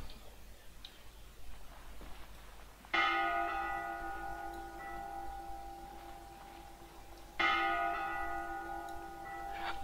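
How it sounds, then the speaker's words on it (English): A bell tolls twice in the horror game Layers of Fear 2, each strike ringing out with a long shimmering decay over a faint ticking background. "Oh, this is the bell."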